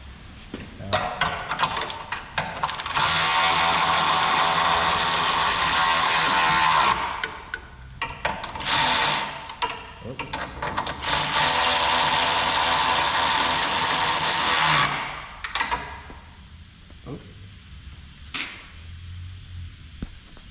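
Rear shock bolts on a 2007–2018 Jeep Wrangler tightened with a ratcheting tool: long loud bursts of rapid mechanical clicking and whirring, close by, broken by brief pauses and a softer clicking stretch at the end.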